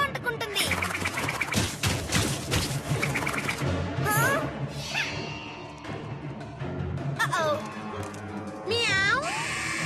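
A cartoon cat meows several times in a busy animated scene with overlapping music and effects, the meows rising and bending in pitch, with voices talking around them.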